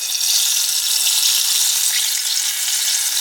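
An egg roll fries in hot oil in a pan, giving a loud, steady, close sizzle that runs the whole time without any talking.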